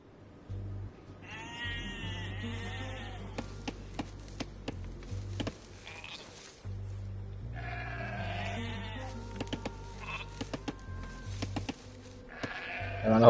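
Sheep bleat repeatedly in the real-time strategy game Age of Empires II, several clear wavering calls over a low game music drone and scattered clicks.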